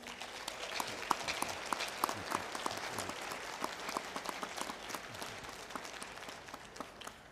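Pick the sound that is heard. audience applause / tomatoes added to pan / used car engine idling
audience applause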